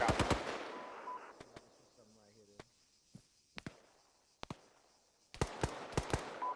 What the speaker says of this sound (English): They're shooting fucking RPGs at us